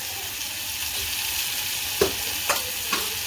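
A spoon stirs masoor dal masala with turmeric, red chilli powder and Malvani masala in a pan, giving a steady soft sizzle with three distinct scraping clinks near the end, close and alone.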